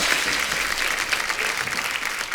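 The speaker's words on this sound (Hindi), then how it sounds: "एक बार जोरदार तालियां अभिषेक सर और चित्रांगदा के लिए।" A studio audience at an Indian TV comedy show claps loudly and steadily in an even wash of applause, with no voices over it.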